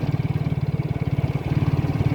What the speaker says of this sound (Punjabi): ਹੀਰੋ ਹੋਂਡੇ ਦਾ ਮੋਟਰਸਾਈਕਲ ਵੀ ਬਹੁਤ ਕਾਮਯਾਬ ਆ